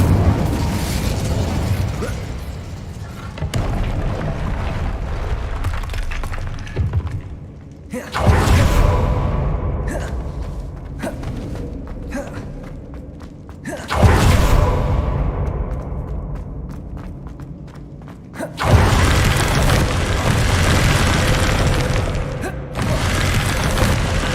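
Spell explosions from Confringo and Incendio in the game Hogwarts Legacy: several loud booming blasts, each followed by a fading rumble and crackle, recurring every few seconds with mechanical clatter between them.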